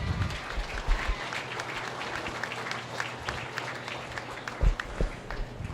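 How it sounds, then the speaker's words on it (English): Audience at a county fair swine show claps for the parents, breeders and helpers, a moderate, scattered patter of applause with a few louder thumps and knocks nearby. "Let's give them a round of applause."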